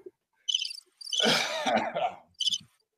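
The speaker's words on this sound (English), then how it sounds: "Got crickets" Short bursts of high, rhythmic cricket chirps, with a brief cough-like noise in between, played close and clear against silence.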